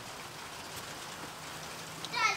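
Steady light rain patters on surfaces outdoors, a soft continuous hiss that holds at an even level, with a brief brighter splash near the end.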